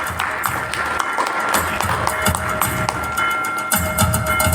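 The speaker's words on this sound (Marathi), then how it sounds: "जरा जोराच्या टाळ्या व्हायला पाहिजे प्लीज" Applause from an audience at a school educational video-making competition prize distribution ceremony in Sangamner, a dense steady clatter of clapping that carries on throughout, with faint background voices mixed in.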